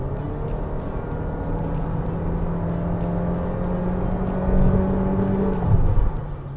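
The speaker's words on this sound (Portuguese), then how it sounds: "para ver como que fica o ruído do motor aqui dentro da cabine" Inside the cabin of a 2023 Honda HR-V EXL with a CVT gearbox, the engine drones steadily while accelerating from 80 to 120, its tone holding then swelling louder before easing off, with no talking.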